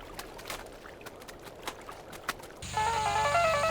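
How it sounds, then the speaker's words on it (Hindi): After a few seconds of quiet rustling, a mobile phone in a Hindi-dubbed action comedy film starts ringing with a loud, bright electronic melody that continues to the end. "ये स्मिता इस वक्त फोन क्यों कर रही है?"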